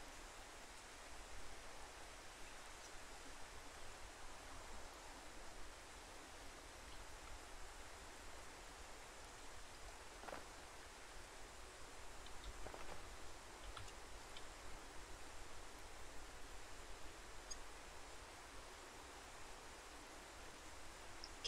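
Steady rain pours in the survival game Ylands, a constant even hiss with a few faint ticks, running alone without voices at a moderate level.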